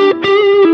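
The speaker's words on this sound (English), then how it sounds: "Check out this neck sound." Electric guitar on the neck pickup played through a Line 6 Helix, a short run of sustained, harmonically rich notes with a few fresh picked attacks, close and fairly loud with no talking.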